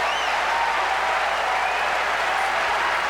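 Crowd at a US Open tennis match in 2001 applauding loudly and steadily, with a few whistles over the clapping.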